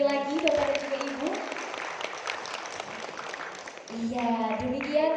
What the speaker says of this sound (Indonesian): Boleh untuk diberi tepuk tangan sekali lagi Bapak dan juga Ibu.